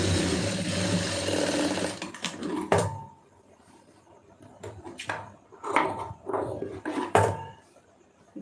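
A sewing machine stitches a blouse lining in a steady, close whirring run that stops partway, followed by short irregular bursts of stitching in the quieter stretch.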